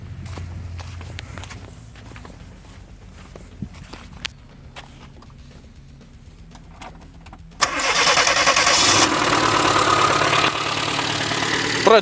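Car engine on a gas (LPG) reducer system, after the gas feed was adjusted, cranks and catches at once, then idles steadily and loudly, following several seconds of quiet footsteps and small clicks.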